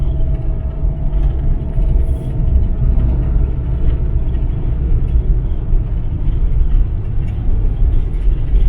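A car rolls along a road on the way to a Bluff Creek fan event, its steady low engine rumble and road noise filling the space continuously, close and loud with no talk.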